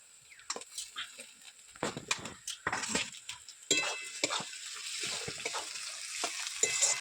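A light sizzle of capsicum frying in a pan, punctuated by irregular clinks and scrapes of a spatula stirring.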